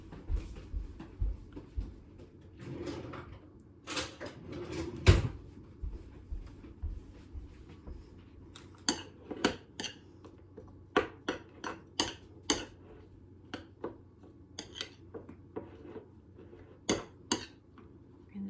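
A spoon being fetched in a home kitchen while making cranberry salad, with a series of faint, scattered clinks and rattles of cutlery and dishes, quiet and close with no talking.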